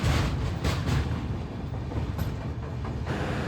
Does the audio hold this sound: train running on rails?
yes